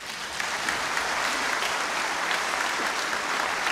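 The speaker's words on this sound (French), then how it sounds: "Voilà, une salle d'applaudissements." A dense, sustained round of applause fills the National Assembly hall at the opening of the ordinary session, steady and close, with no talk over it.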